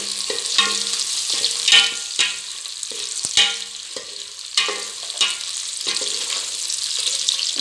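Plantain pieces and green chillies sautéing for a south Indian plantain biryani, a bright steady sizzle with rhythmic spoon scrapes and clacks against the pan every second or so, close and fairly loud.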